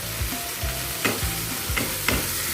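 Prawns frying with masala paste are stirred in a pan, giving a steady close sizzle with a few sharp scrapes of the spoon at regular intervals and no talking.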